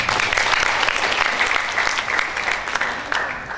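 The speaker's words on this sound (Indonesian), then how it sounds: "Tepuk tangan untuk kita semua" Audience at a nursing college graduation ceremony applauding, a full, loud burst of many hands clapping that holds steady and tapers slightly near the end.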